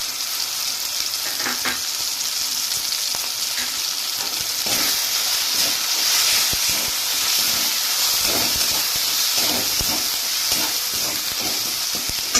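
Red chili powder fries in hot oil with chopped banana stem for a prawn dish, producing a steady, even sizzle with occasional scraping and stirring sounds throughout.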